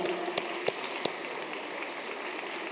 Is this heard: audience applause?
yes